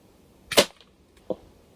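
Two sharp cracks from a Black Bunker BM8 air rifle in 5.5mm caliber firing pellets at a target about 30 meters away: a loud snap followed by a fainter, shorter crack under a second later, outdoors with no talk.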